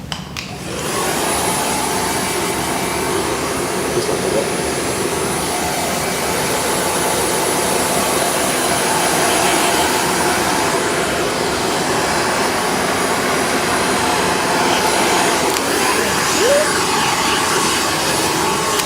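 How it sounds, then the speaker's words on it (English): A blow dryer roars steadily and loudly up close for a long stretch, with a brief spoken remark near the start. "We'll just grab the blow dryer."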